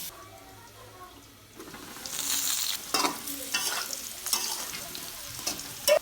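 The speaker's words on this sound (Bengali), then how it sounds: "প্রথমে তেল দিয়ে আলুগুলোকে ভেজে নেব সামান্য লবণ হলুদ দিয়ে এগুলোকে ভেজে নেব" Potatoes frying in oil with salt and turmeric in a kadai, starting with a quiet hiss that builds into a louder, steady sizzle, with clattering stirs close by.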